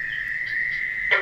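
A short, high-pitched buzzing trill from a Fowler's toad, steady and fairly close, with a brief louder burst near the end.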